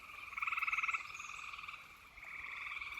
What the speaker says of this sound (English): The tree frogs are beside themselves